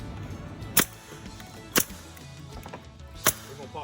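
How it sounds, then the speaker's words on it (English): A brad nail gun fires nails into a joint of a wooden concrete form. Three sharp, close snaps come about a second apart over quiet background noise. "we're just gonna use a brad gun and shoot it together with some nails"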